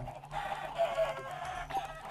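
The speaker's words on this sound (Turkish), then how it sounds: "Tavukları da hemen şurada 2 saniye öldürelim." Minecraft chickens cluck in a few short, repeated bursts, moderately close and clear with no talking, over a quiet in-game background.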